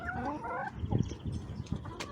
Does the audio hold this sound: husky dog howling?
no